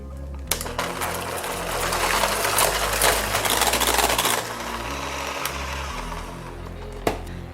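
An electric mixer whirs loudly as pumpkin puree, sugar and pumpkin spice are blended for cheesecake swirl brownies, a steady buzzing drone with a couple of sharp knocks against the bowl, close and without talk.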